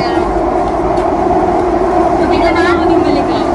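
MRT train in Singapore, a loud steady rumble and hum of a moving metro carriage with a faint squeal, continuous throughout, voices talking beneath it.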